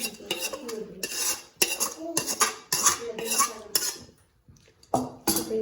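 A spoon mixing a tempering of seasoning into cooked rice, giving a run of close, loud scraping and clinking strokes against a dish in uneven bursts with short pauses between them.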